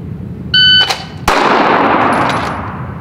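A single sharp pistol shot rings out during a fast scoop draw drill at a shooting range, a loud close crack preceded by a brief electronic timer beep and followed by a lingering outdoor decay.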